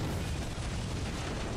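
An RPG rocket explosion hitting an armoured personnel carrier in the video game S.T.A.L.K.E.R., heard as a fairly quiet, sustained rumbling boom that fills the whole clip.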